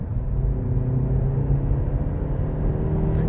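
A 2023 Suzuki S-Cross Hybrid drives in sport mode, its engine and road noise forming a loud, steady rumble from inside the cabin with no talk.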